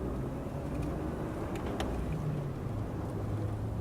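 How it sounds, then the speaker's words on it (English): SUV driving over gravel, a steady low rumbling crunch with broadband road noise heard from inside the vehicle, continuous and even throughout with a couple of faint brief clicks. "Auto SUV gravel drive."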